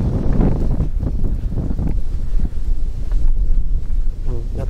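Gusting wind rushes and buffets the microphone at Sakurabuchi Park in Aichi, a steady low roar that swells and dips throughout with no one speaking.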